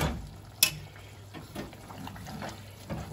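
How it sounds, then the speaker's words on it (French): Calamari with sweet peppers is stirred in a pan with soft, faint scrapes and a light sizzle, including one brief knock of the utensil. "Je vais bien mélanger."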